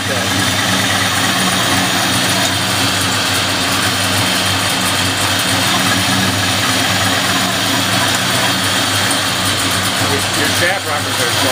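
The ERE399 engine idles steadily right after its first start, a continuous close rumble with a droning hum that holds evenly throughout, with no voices over it.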